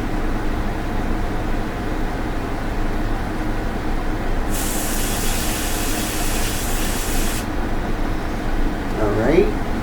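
An airbrush sprays paint in one steady hiss lasting a few seconds, set against a constant hum of room noise and followed by a brief clatter at the end.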